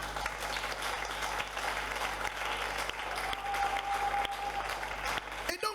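A congregation at a French-language church sermon claps and cheers for several seconds, a dense continuous wash of applause with a few louder claps near the end.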